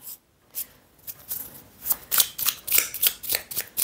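Oracle cards being shuffled by hand, a series of quick papery riffles and flicks that grow busier and louder, close and alone with no talk.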